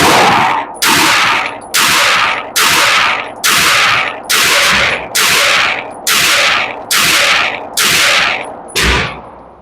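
Eleven loud, evenly spaced shots from a ported Sig Sauer P320 xFive pistol, each a sharp close crack with a short decaying tail, fired at a steady pace of roughly one per second.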